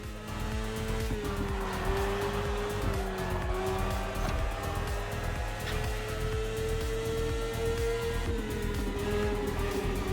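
A BMW S1000RR superbike engine in The Crew Motorfest racing game holds a steady, loud high-revving drone with slight pitch rises and dips, running continuously over the whole stretch with no talk.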